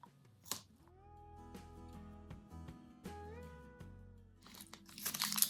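A bite into a chocolate wafer bar with cream filling and blonde and milk chocolate layers, giving a short crisp crunch near the end over a musical backing.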